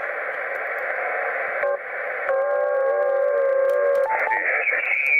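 A radio receiver tuned across the 21 MHz amateur band gives off loud, steady hiss and static, with shifting tones and whistles as the dial moves, filling the clip without talk.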